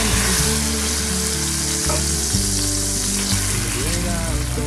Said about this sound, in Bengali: পাঁচফোড়নটা ভাজা হয়ে গেছে, এখন আমি সেদ্ধ চাটনিটা এর মধ্যে ঢেলে দেব।